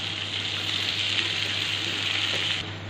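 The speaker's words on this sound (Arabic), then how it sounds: "لسه هنكمل برده تحميرها هي والبصل" Onions frying in a pan for Egyptian-style lentil soup, giving a steady, close, moderately loud sizzle that holds evenly for nearly three seconds with no one talking.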